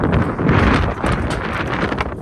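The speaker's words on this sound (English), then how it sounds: "it's a windy day" Strong wind buffeting the microphone at an outdoor dirt bike riding spot, a loud continuous rumbling roar with gusty surges.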